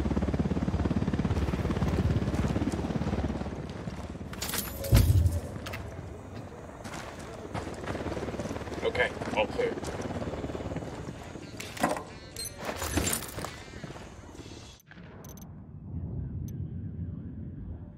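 Helicopter flying in the video game Ghost Recon Wildlands, a continuous rotor roar that holds steady and fades near the end, broken by brief sharp bursts and thuds, with voices speaking over it.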